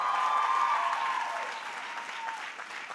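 Applause from a large audience at a Barnard College commencement ceremony, loud and sustained at first and then slowly fading, with no speech over it.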